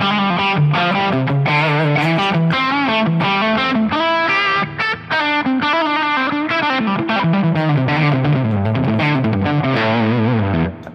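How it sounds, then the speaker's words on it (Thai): A distorted electric guitar with PRS 85/15 pickups plays continuously and loudly, chords and notes shifting in tone as the pickup switch changes, with a brief dip near the middle. "ทีนี้มาลองกับเสียงแตกคร่าวๆด้วยนึงผมจะลองสวิตช์เปลี่ยนปิกอัพไปเรื่อยๆ"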